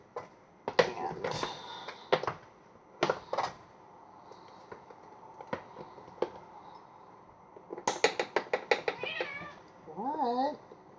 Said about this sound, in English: If you hear meowing in the background,